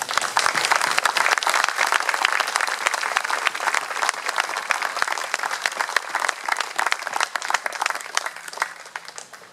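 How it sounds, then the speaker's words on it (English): A Memorial Day ceremony crowd claps for departed veterans, a lively round of individual hand claps that holds steady and then gradually thins toward the end. "Let's offer a round of applause in celebration of the lives of these departed heroes."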